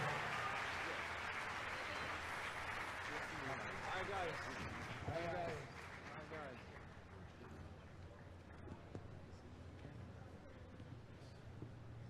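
Crowd on the MSC Seaside cruise ship applauds Andrea Bocelli at its naming ceremony: full, sustained clapping with cheering, loud at first, then tapering to a quieter mix of scattered claps and murmuring voices.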